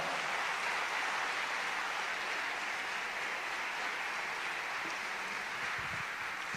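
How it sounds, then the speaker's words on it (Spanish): Church congregation applauding during a Spanish-language sermon, a steady wash of clapping from many hands that holds evenly for several seconds with no talking. "Denle un aplauso a la palabra de Dios"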